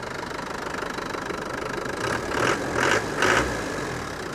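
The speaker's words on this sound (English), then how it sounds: "Very smooth running engine." A 1998 Land Rover Defender 90 Wolf with the 300Tdi diesel engine idles smoothly with a steady rumble, swelling briefly three times as the throttle is blipped, heard close up with no talking.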